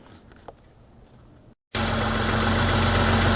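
A Jeep Wrangler engine fitted with an aftermarket electric radiator fan starts after a brief quiet lull, then idles loudly and steadily with a constant mid-pitched drone.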